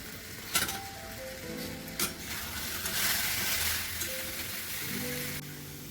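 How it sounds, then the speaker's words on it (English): Steady sizzling of chicken frying in masala in a pan, with occasional clinks of a utensil against the pot; no talking. "I will let it fry another say 6-7 minutes, maybe 8 minutes, so that the flavor of masala goes into the chicken"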